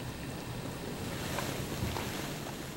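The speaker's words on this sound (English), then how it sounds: "Waves are coming in from an iceberg that has just broken up on the outside." Swell from a freshly broken-up iceberg washes in along the shore while paddling off Innarsuit, Greenland: a steady, broad wash of water and surf with wind noise, continuous and moderately distant, no voices.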